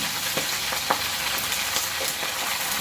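Vegetables stir-fry steadily in a hot wok, with occasional scraping stirs cutting through the continuous hiss.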